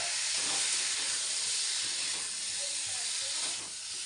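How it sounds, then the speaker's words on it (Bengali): Raw cauliflower sizzles in frying spices, a continuous broad hiss that swells and eases, steady and moderately close. "আলু ফুলকপি আমি কাঁচা দিয়ে মশলার সঙ্গে কষিয়ে নেব। এবার আমি ফুলকপিটা দিয়ে দেবো।"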